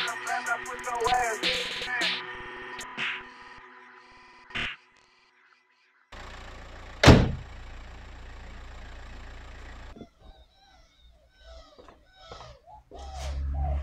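An Audi A3 8P diesel engine restarting after a fuel filter change. A sharp crank and catch are followed by a steady idle that runs for several seconds, then cuts to quieter ambient sounds with birds.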